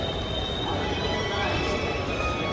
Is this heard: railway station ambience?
yes